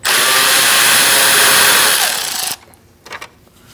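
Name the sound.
power tool removing radiator fan bolts with T15 bit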